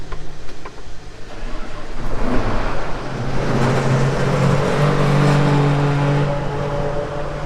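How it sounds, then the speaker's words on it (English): A Steiger 400 tractor engine cranks and catches, then settles into a steady, loud, low idle that runs close by and alone. "I'm going to start this Steiger 400 up"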